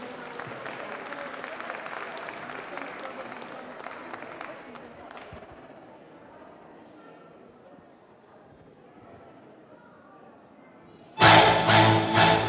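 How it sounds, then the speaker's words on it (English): An audience claps for a traditional Chinese dance performance, with moderate applause fading over several seconds into quiet, then a sudden loud burst of sound near the end. "So everyone give them a round of applause."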